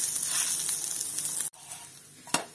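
A semolina breakfast snack cooks in a pan on low flame, giving a steady close sizzle that cuts out briefly, then resumes more quietly with a sharp scrape or tap near the end.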